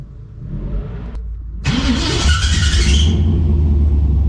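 A car engine tuned with a Holley Terminator X EFI system cranks briefly, catches with a loud burst, then settles into a steady, rumbling idle, close up with no talking.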